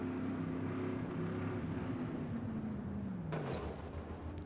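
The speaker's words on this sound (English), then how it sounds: "You can hear them on and off the throttle" SK modified race cars at Oxford roar on and off the throttle, a loud engine drone rising and falling in pitch, then cutting back abruptly near the end with a few sharp higher notes.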